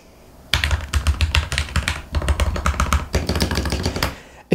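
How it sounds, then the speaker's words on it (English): Fast typing on a lubed Ducky One mini 60% mechanical keyboard, dense, deep-toned clacks in a rapid rhythm with brief pauses, close to the microphone and loud. "This keyboard sounds awesome."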